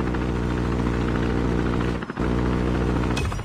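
Helicopter of a chopper gunner killstreak in Call of Duty Mobile, a steady loud rotor and engine drone with a low hum that dips briefly near the end before resuming.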